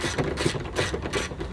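Ratchet wrench clicking steadily while a top bolt is tightened on a vehicle, a repeated mechanical ratcheting close by with no voices.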